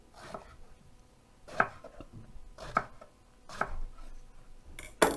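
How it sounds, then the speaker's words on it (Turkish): A knife slices eggplant on a board in several separate, sharp strokes with short pauses between them, close and fairly quiet. "Bu şekilde bu kalınlıkta doğrayalım."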